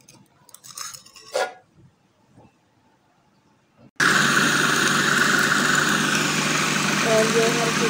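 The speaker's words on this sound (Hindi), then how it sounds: "ये हर चीज़ें जो हैं वो ग्राइंड हो रही हैं।" An electric kitchen grinder churns lentils with garlic, ginger and green chili paste, starting abruptly as a loud, continuous whirring roar after a few seconds of quiet kitchen sounds and brief clatter.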